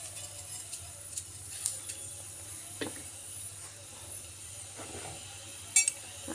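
A teaspoon of cumin seeds crackles in a hot frying pan, giving sparse, faint pops and ticks over a soft, steady hiss.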